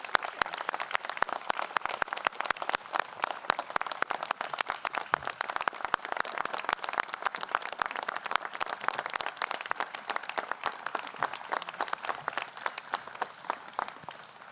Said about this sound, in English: Could we give these leaders a round of applause?